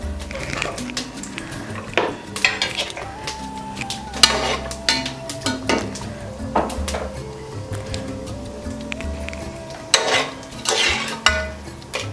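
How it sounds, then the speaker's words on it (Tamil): Fennel seeds with cinnamon, cloves, bay leaf, star anise and cardamom crackle in hot oil for cabbage biryani, with soft popping under frequent clatter and knocks of a spoon against the pan. "2 சோம்பு போடுறேங்க. வெடிக்கும்."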